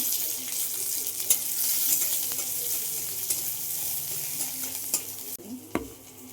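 Chopped garlic and onion sizzle in hot oil in a pan while being stirred for an aloo potol chorchori, a steady frying hiss with occasional scraping clinks, close and continuous without talk.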